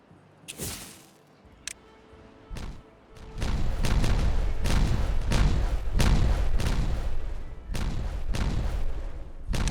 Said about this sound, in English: If we just detonate that down.